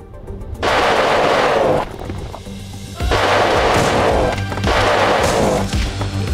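Rapid bursts of laser rifle fire in the video game Secrets of the Witch House, three long volleys separated by brief pauses, loud and harsh with a crackling, rattling texture.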